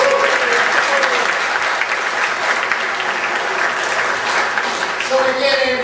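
Steady, full applause from a cabaret audience fills the whole stretch, loud and dense, with a brief voice surfacing near the end.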